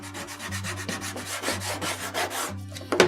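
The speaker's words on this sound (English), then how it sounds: "I'm going to put it on top of my vinyl stencil and burnish it down really, really well." A vinyl stencil being burnished firmly onto a glass bottle gives steady close scraping and rubbing strokes for about three seconds, with a low hum underneath and a sharper knock right at the end.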